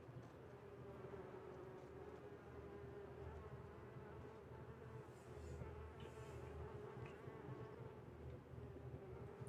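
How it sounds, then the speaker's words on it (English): Bees buzzing in the video game Sorcery!, a faint but steady swarm drone with a low hum, continuing evenly for several seconds with no voices. "All I know is that there's bees. Busy, busy bees."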